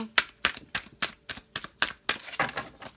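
A deck of tarot cards being shuffled in a burst of about ten crisp, evenly spaced riffling snaps, close and fairly quiet, with no talking.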